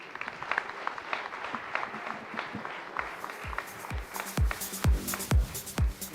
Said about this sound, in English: let's give a big round of applause to our first panelist